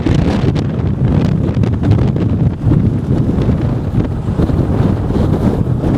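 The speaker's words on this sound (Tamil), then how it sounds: "அடிக்கிற காற்றை பார்த்தீங்க நீ" Strong wind blows on Nainativu island, roaring steadily and buffeting the microphone, loud and unbroken with no voices.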